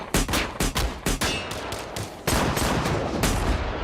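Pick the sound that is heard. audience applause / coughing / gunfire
gunfire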